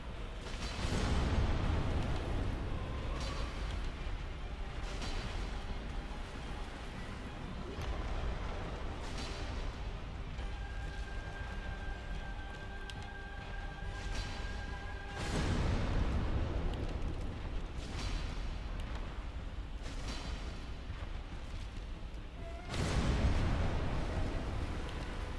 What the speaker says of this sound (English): I'll just keep avoiding these explosions